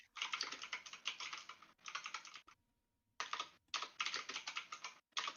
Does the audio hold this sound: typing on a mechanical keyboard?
yes